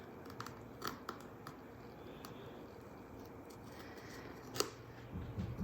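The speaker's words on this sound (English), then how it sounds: "We'll use this gyro cut to cut around these flowers." A Gyro-Cut craft cutting tool works around paper flowers in a journal, giving faint, sparse clicking and scraping cuts with a sharper snip near the end over a quiet room background.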